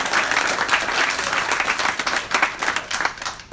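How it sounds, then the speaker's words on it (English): An audience at a goalball end-of-season awards event applauds loudly and steadily, dense clapping sustained throughout before easing slightly at the very end. "Please give a round of applause to our great group."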